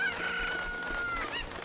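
Chicken-like cucco clucks and crows in The Legend of Zelda: Ocarina of Time, a bright, close, continuous cackle over game sounds with a rising squawk near the end.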